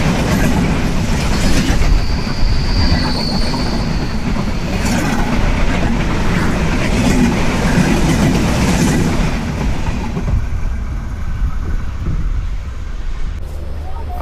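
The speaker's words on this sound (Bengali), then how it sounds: "7 মিনিট বিরতি শেষে 12টা 16-তে আমাদের ট্রেন ছেড়ে দিল" The Ekota Express, a long-distance Bangladeshi passenger train, pulls out of a station with a continuous low rumble and rattling carriages heard from on board, the roar easing slightly toward the end.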